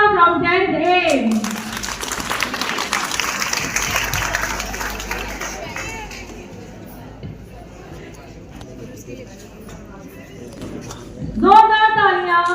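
Applause and clapping from a crowd at a Class 10 school farewell party swell for several seconds, mixed with cheering and voices, then fade as talk resumes.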